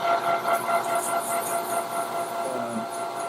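A rifle barrel for F-class shooting spins at about 1,000 RPM while being polished with sandpaper, giving a steady, fairly loud mechanical whir with a faint tonal hum that stays even throughout.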